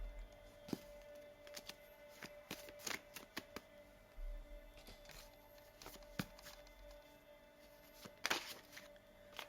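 Playing cards are shuffled by hand in quick irregular bursts of crisp riffling and snapping, close but quiet, with short pauses between handfuls and no talking.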